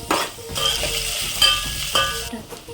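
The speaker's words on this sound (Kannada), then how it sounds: "ಈರುಳ್ಳಿ ಕಲರ್ ಚೇಂಜ್ ಆಗೋವರೆಗೂ ಹುರ್ಕೊಬೇಕು." Onions fry in hot oil with curry leaves for a mushroom gravy, a close, steady sizzle broken by repeated scraping stirs in the pan, with no voices.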